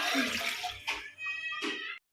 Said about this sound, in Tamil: இப்போ நம்ம தேவையான தண்ணி ஊற்றிக்கலாம்.